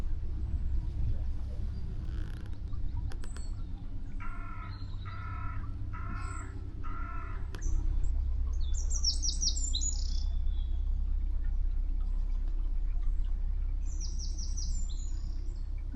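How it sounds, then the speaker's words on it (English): Crows caw in a short rhythmic series of four calls, followed by higher chirping birds among towering trees by a canal, over a low steady rumble of distant traffic. "I say it's so lovely hearing the birds."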